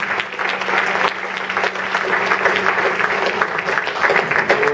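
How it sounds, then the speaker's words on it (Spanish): A church congregation applauds together after a call from the pulpit, a dense, steady clapping that fills several seconds at close range without pause. "un aplauso a nuestro Rey."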